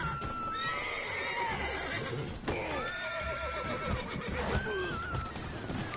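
Repeated horse whinnies and neighs from The Witcher: Wild Hunt, loud and near over dense game ambience, with faint hoof clip-clops in the mix.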